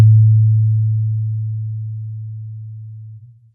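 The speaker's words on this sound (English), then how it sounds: "If I cut the harmonics of the piano and leave only the fundamental," A single piano note stripped of its harmonics leaves only a pure, low fundamental tone, like a plain sine hum, starting loud and slowly fading over a few seconds before a small wobble as it ends.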